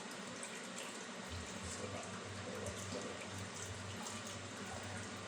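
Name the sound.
water running from tap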